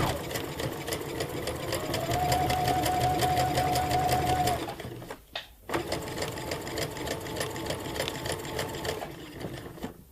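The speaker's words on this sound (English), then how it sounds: "we're gonna make a straight seam first" A sewing machine runs steadily while stitching a straight seam, a loud continuous mechanical whir with rapid needle rhythm, pausing briefly midway before resuming at the same pace.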